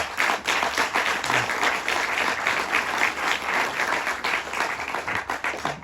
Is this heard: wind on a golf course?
no